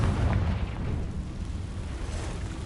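Confringo blasting-spell explosion in Hogwarts Legacy inside a cave, a heavy booming burst that rumbles low and fades into a rough decaying roar.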